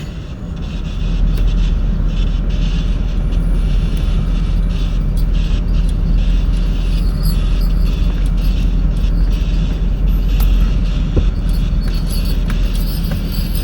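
Steady low rumble of a truck engine idling and creeping forward slowly, loud and continuous throughout with faint clinks over it, no talking.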